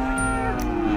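Young female breeding cattle at the Wirosari cattle market in Purwodadi, Grobogan, give one sustained, close, droning moo over a busy market background.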